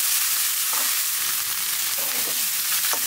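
Leftover rice fries in a pan with a dense, bright hiss of sizzling oil close by. A few light scrapes of stirring stand out over the steady background.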